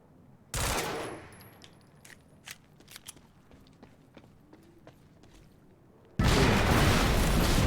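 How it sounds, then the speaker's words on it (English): A door blasted apart in the video game Quantum Break: a loud, sudden explosive burst, then scattered sharp pops and clatter like gunfire, and a second heavy roaring blast at the end. "that blew up more of the door than I was expecting"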